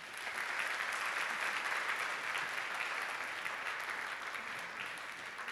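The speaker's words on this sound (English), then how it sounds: "a wee round of applause" A church congregation gives sustained applause for award recipients being thanked for dedicated service, a steady wash of many hands clapping at moderate distance for the whole stretch.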